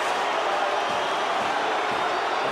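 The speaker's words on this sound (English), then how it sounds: "The crowd don't like it." A large rugby league test-match crowd at a 1991 Australia versus New Zealand game, a steady, loud, broad roar of massed voices, distant and unbroken throughout.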